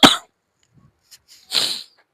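A person coughs twice, sharp and close, the two bursts separated by a short quiet pause, with no talking.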